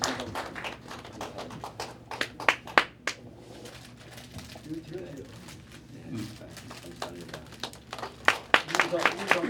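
An audience at a Korean church installation service for the incoming chairman of a workplace-mission pastors' association claps in scattered, uneven bursts, moderately close and fairly light, with a soft low hum of the hall beneath.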